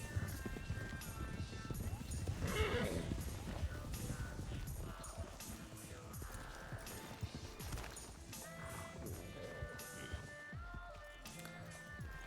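Horses clop and shuffle on hard ground close by, with a neigh rising among the hoofbeats, while people talk over the scene.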